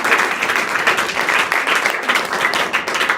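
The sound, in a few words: children applauding teachers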